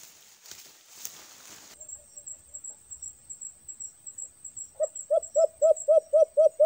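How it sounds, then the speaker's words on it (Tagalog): An owl hooting close by, first sparse and soft, then a rapid, loud run of evenly spaced hoots in the final seconds, heard alone with a faint insect-like trill in the background. "Humuhuni na pala dyan si Inky natin mga idol"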